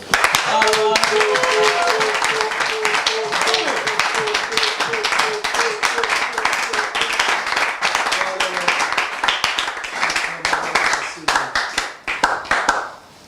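A church congregation claps steadily and loudly in rhythm while acclaiming the king, with voices singing and cheering over the sustained applause until it tapers off near the end.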